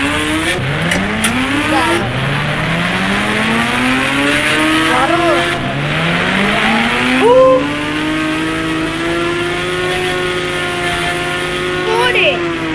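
A motorbike engine in the game Indian Bike Driving 3D revs up repeatedly, pitch climbing and dropping in loud, close surges, with a speaking voice over it.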